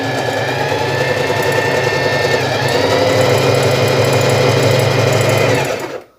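A Facilita Pro sewing machine runs a three-step zigzag stitch at width 4 with shortened stitch length, a loud steady whirring drone close up that runs unbroken and then cuts off at the end.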